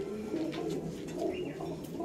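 A male and female breeding pigeon pair coo nearby in a steady, rolling low murmur that swells and dips over about two seconds, with no voices.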